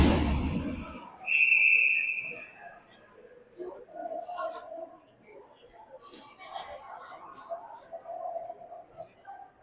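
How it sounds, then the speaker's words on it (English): A referee's whistle at a junior AAA ice hockey game blows one sustained shrill blast lasting over a second, rising above rink noise and crowd murmur with a commentator talking around it. "And we got a whistle"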